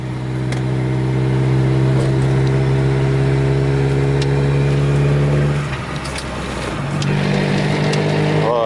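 A car engine labors under load in third gear, droning loud and steady with strong harmonic tones, then drops off as the driver shifts hard into fourth at low RPM, and the engine picks back up.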